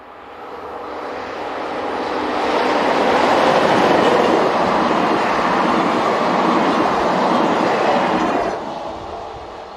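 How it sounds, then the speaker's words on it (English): A TGV high-speed train set from Dunkirk to Lille in France rushes past in a broad roar that builds, holds for several seconds and then fades, with faint rhythmic wheel clatter and no voices. "Heading south is TGV set number 40, forming the 1801 departure from Dunkirk to Lille, Europe."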